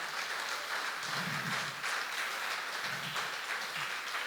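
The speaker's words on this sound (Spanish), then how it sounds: "Dale un aplauso al Señor." Congregation applauding during a Spanish-language church sermon, a steady wash of clapping that fills the whole stretch at moderate level, with faint low murmurs rising briefly within it.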